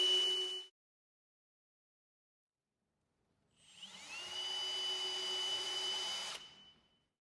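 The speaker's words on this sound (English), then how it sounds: "Remove the closure channel and drill the pilot holes." A power drill boring pilot holes into the closure channel of a Homestyle Echo folding door: a brief buzz, then quiet, then a steady whirring run of about three seconds that spins up and stops, close by with no talking.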